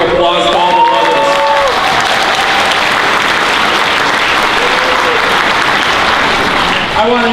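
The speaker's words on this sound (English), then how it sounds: "Let's give a loud round of applause to all the mothers." A large crowd at a 2018 gubernatorial campaign rally gives sustained, loud applause with some cheering. The clapping stays full and even until it begins to fade at the end.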